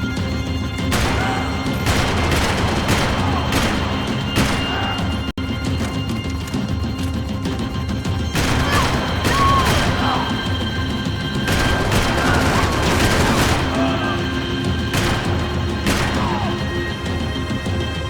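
Gunfire from a Max Payne 3 shootout: loud, dense bursts of shots and crashes keep up nearly the whole time over a steady noisy game backdrop.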